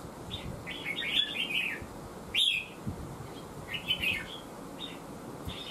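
A red-whiskered bulbul sings in short bright warbling phrases, close and clear, separated by pauses over a soft background hiss.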